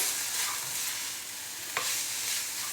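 Leeks sauté with spices in a pan, a steady quiet sizzle with one short stirring scrape near the end.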